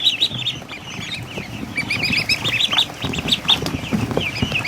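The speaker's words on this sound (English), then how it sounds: "There's a little midget duck." Tiny ducklings peep in rapid, high, repeated chirps at close range. The calls overlap with other small fowl calling and light rustling, and no one speaks.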